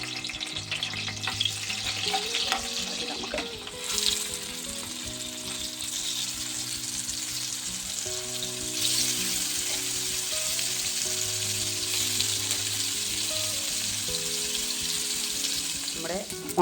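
Dried fish frying in a pan with green chili, a steady close sizzle and crackle running throughout with occasional stirring scrapes, no talk.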